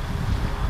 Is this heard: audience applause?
no